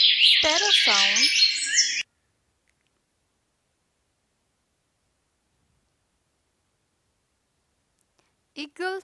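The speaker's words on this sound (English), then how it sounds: "Sparrow sound." A sparrow chirps in a short, busy burst of bright tweets lasting about two seconds, followed by long silence and a brief voice near the end.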